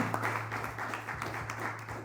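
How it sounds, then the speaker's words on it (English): A small audience at a real estate panel gives a short round of applause for the guests, light steady clapping with a low hum underneath. "So guys, let's give these gentlemen a big applause."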